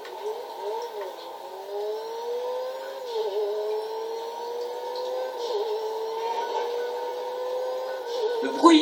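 Mercedes SLK 65 AMG (Feltzer) engine in GTA 5, a steady mid-pitched hum that rises and dips as it revs through gears, with a louder swell at the end and occasional faint background sounds.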